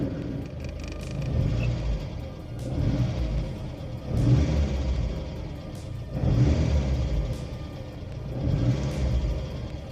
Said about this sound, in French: en démarrant le moteur et en accélérant un petit coup